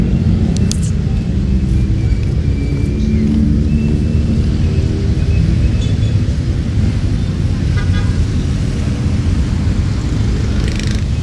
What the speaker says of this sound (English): Man, lots of traffic up here.